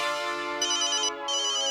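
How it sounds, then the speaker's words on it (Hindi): A phone ringtone chimes in a bright repeating electronic pattern, close and clear, with a brief pause before it resumes. "देखो देखो, शायद सोनू का ही फोन हो."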